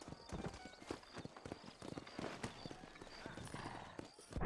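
Horse hooves clip-clop in a steady, continuous rhythm while riding in the video game Red Dead Redemption, with a brief whinny and someone talking over the gait.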